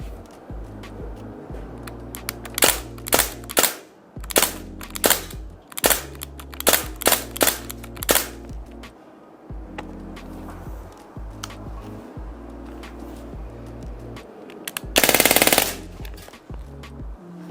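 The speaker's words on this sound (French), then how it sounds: "Faire juste quelques tirs comme ça, puis après on mettra en mode full auto." A Crosman R1 Fallen Patriot limited edition airgun fires several sharp single shots in semi-auto and then a short, dense full-auto burst. The snappy cracks are close and loud over a quiet outdoor background with no speech.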